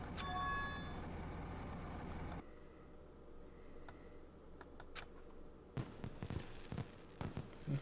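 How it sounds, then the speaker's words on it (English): Fireworks going off in the video game Danganronpa 2, a string of sharp bangs and crackles scattered through the second half after a loud rumbling passage, with no voices. "It's fireworks."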